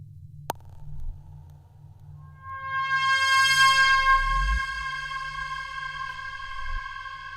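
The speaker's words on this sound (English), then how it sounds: "I approve of that reverb." Eurorack modular synthesizer tones swell into a bright, sustained chord that lingers in a washy reverb tail, with a low hum underneath and no speech.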